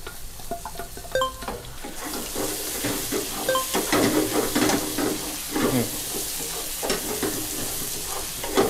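Chilies are tossed into hot oil and shrimp fat for a Thai shrimp basil stir-fry, hissing in a loud, steady sizzle close by, with spatula scrapes and clinks against the pan throughout.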